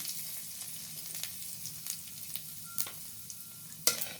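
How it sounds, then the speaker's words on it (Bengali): Whole cumin seeds sizzle in hot oil in a kadai, a soft steady hiss broken by a few sharp pops and crackles, with no voices. "কড়াইয়ের মধ্যে দিয়ে দিচ্ছি গোটা জিরে ফোড়ন"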